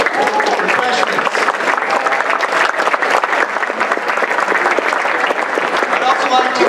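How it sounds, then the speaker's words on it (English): Sustained, dense audience applause at a regional council meeting, loud and steady throughout with a few voices murmuring underneath the clapping. "Let's give a big round of applause"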